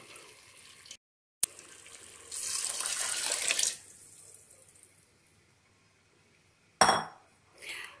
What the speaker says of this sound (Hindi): पानी मैंने डाल दिया है